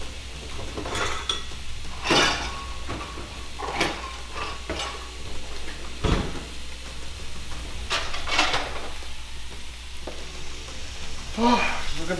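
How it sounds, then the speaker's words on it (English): Eggs frying in a hot skillet hiss steadily beneath clinks and scrapes of cookware and utensils, with intermittent talking over the sizzle. "skillet was pretty hot on this one, so they will cook pretty fast."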